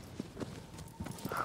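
A horse's hooves clip-clop at a walking pace in Shadow of the Colossus on PS4, a series of soft, fairly faint, evenly spaced thuds.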